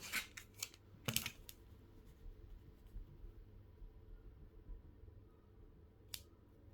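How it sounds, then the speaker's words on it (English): A few quick, sharp snips of scallop scissors cutting fabric near the start, then a quiet stretch with a single faint click toward the end. "snipped it, the scallop scissors"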